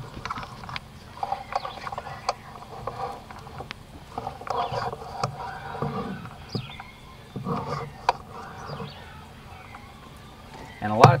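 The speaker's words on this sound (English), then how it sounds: "now you can hear the coyote barking." Coyotes bark and yip outdoors at a distance in the wild after an electronic pup distress call stops, scattered sharp calls over a noisy field background.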